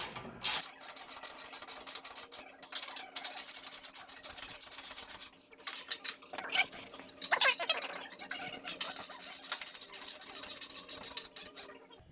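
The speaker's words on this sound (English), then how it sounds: "I'm going to go through my socket wrench and tighten her up." A socket wrench ratchets as bolts are tightened while mounting a snowblower on a tractor, giving steady close rasping clicks in repeated bursts with brief pauses between strokes.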